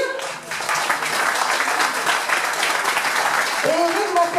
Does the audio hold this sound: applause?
yes